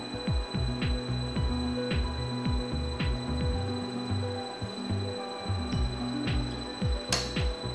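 A Clausing 20-inch EVS drill press drills through the workpiece, a steady motor hum under repeated rhythmic knocking and scraping as the unlocked table shifts, ending with a sharp metallic clink.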